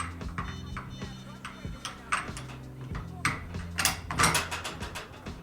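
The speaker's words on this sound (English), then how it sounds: "So I want to set my torque wrench to 40 foot-pounds for my final torque." A torque wrench is being adjusted to 40 foot-pounds during a build class, giving a run of small mechanical clicks and ratcheting ticks over a low steady hum, with a few brief louder knocks.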